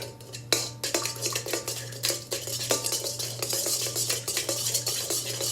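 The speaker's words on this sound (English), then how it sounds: "Got to stir it." A spoon stirring a warm yeast mixture in a bowl, with rapid clinking and scraping against the sides in a fast, continuous rhythm, close and clear over a low steady hum, with no talking.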